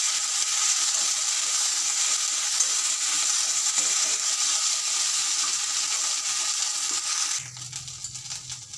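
Tempering spices frying in hot oil for a hilsa fish curry with eggplant and potato, giving a steady, bright sizzle that runs for several seconds and then drops to a softer crackle.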